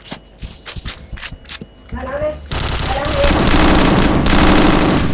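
Gunfire in a shooting video game: a few sparse shots lead into a loud, sustained rapid burst that dominates the last seconds, with a voice or game sounds mixed in.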